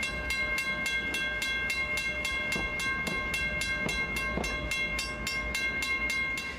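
A Fowler steam locomotive running in tandem with CB 113, a 1924 A&G Price of Thames engine, hauls a passenger train, a steady rhythmic chuffing beat with a sustained whistle-like tone over it, moderately distant.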